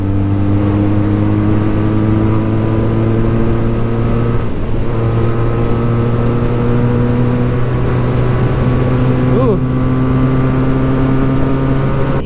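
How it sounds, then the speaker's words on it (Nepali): Benelli 302S motorcycle fitted with a Yoshimura exhaust cruising on a highway at steady speed, a continuous loud engine drone with a brief pitch shift near the end and no talk. "यो बाइकलाई इजिली 100-120 को स्पिडमा क्रुज गर्न मिल्छ है."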